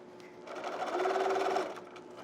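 A sewing machine stitches a beginner's handbag zipper clutch, a steady fast mechanical whirring hum lasting about a second before slowing to a stop, close and moderately loud.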